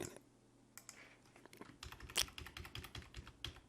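Computer keyboard keys clack in quick irregular bursts while someone builds a quiz in Flash, sparse taps at first and then a denser run of typing, close and fairly quiet.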